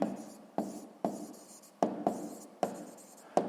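Pen or chalk writing out a sixth-grade maths exercise, a series of sharp taps and scratchy strokes, each tap followed by a fading scrape, about seven strokes in a quick, uneven rhythm.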